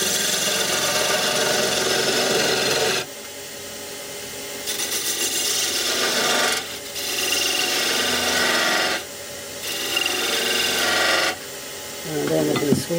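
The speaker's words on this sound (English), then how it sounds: "as wide as I can with this chisel" Chisel carving out a wooden candlestick holder, a close, loud, continuous rasping scrape in long strokes, broken by short pauses and a shift in pressure, with no talk over it.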